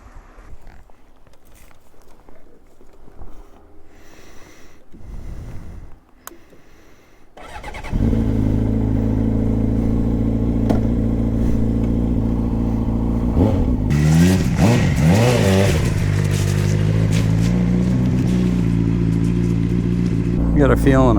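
A Honda CBR 600RR sport bike starts after a few quiet seconds, its engine catching and settling into a steady loud idle before being revved several times, close by with no talk.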